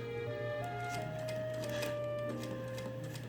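A sewing machine runs steadily while stitching the lined apron front of a plaid Regency day dress made from a bedsheet, a continuous close mechanical whir with faint ticking, no voices.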